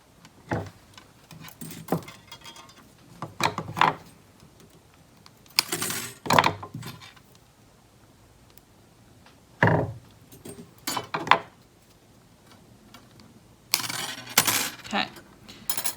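Silver wire being cut into pieces for earrings, heard as a series of sharp metallic snips and clicks spread irregularly over a quiet background, fairly close.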